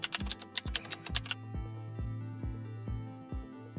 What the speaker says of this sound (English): Type movie name.